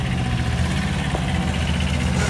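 Two-cylinder water-cooled diesel of a Bobcat 343 skid steer loader idling steadily, a loud continuous low rumble with even vibration throughout, no talk.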